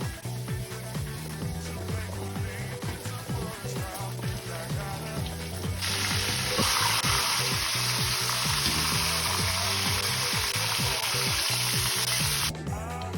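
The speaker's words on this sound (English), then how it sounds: "So that's the whiting, ready to be fried up." Whiting fish frying in oil for a fried seafood platter, starting with a softer crackle amid clatter and pops, then swelling into a loud, steady hissing sizzle close by, without speech.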